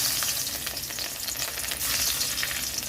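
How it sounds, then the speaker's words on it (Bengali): Garlic fries in hot mustard oil in a kadai with a loud, dense, crackling sizzle that holds steady and close throughout. "কড়াইতে সর্ষের তেল দিয়েছি সর্ষের তেলটা গরম হয়ে গেছে তো এখানে দিয়ে দিচ্ছি রসুন"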